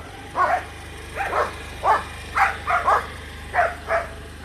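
A dog barks repeatedly nearby, about nine sharp barks in an irregular rhythm, some in quick pairs, over a low steady hum.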